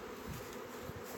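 Honey bees buzz steadily inside an overcrowded hive whose top three-quarters is filled with honey, a faint, continuous hum close by with no voices.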